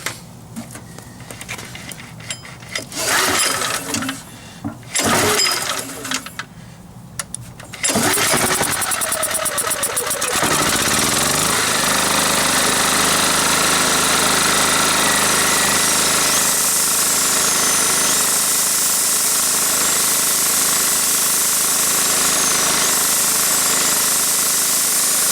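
An old generator, unused for 15 years, cranks in several uneven rough bursts, then catches and settles into a loud, steady, buzzy running drone that continues to the end.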